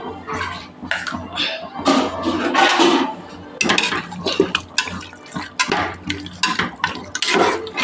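Mutton pieces with turmeric, chilli powder and salt are stirred in a pot for biryani, giving close wet squelching and metallic scraping of a ladle against the pot in irregular bursts.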